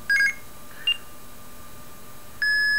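Blue box tone generator beeping in IMTS dial pulse mode while storing a number: a short cluster of electronic tones at the start, a brief single tone near the middle, then a steady sustained tone at the end, clear and close with no talk.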